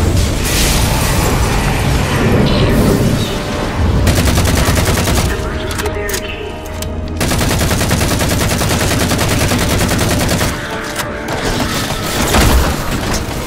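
Halo 4 combat rages with sustained automatic gunfire and heavy grenade explosions booming in waves, loud and dense throughout, with brief lulls between bursts.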